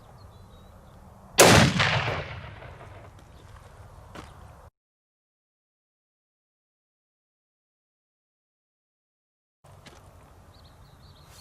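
A single loud blast from an Accuracy International Mk13 Mod 7 sniper rifle fired on a 200-yard range, close by and decaying over a few seconds, followed by dead silence and then faint outdoor ambience.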